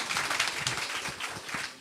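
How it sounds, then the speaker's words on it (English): An audience applauding for Mr. Lincoln Bain at a political candidate event in Central and South Eleuthera, a steady wash of clapping from a crowd, moderately distant. "Can we give him a round of applause,"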